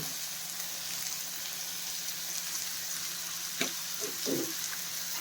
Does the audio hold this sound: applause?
no